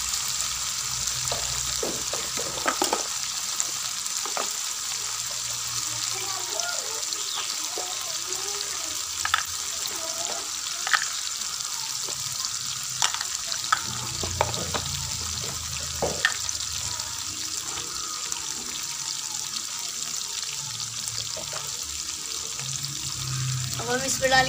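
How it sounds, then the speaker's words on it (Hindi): Spice masala for aloo matar curry frying in a pan, a constant low sizzle with occasional stirring and scraping clicks, steady and fairly close throughout. "आपने थोड़ा सा इसको भूनना है मसाले को"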